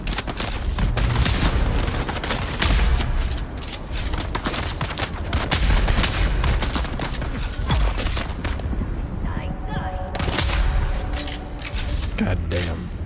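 Rapid, loud bursts of gunfire crack out repeatedly in the deep desert of Dune: Awakening, with someone talking between and over the shots.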